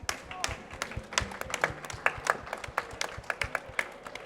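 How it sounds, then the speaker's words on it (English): Scattered clapping from a small audience at a COP30 resilience hub event, a patter of hand claps rising and thinning over a few seconds. "So big round of applause for Stan."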